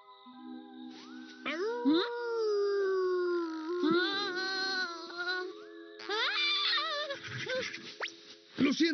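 A cartoon dog howls in long, wavering, sliding tones, rising and falling over several seconds with brief breaks, close and clear.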